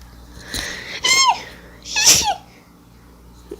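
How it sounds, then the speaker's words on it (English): Two sharp, close sneezes, each with a quick breathy intake before the burst, followed by quiet. "Now you know what my sneeze sounds like."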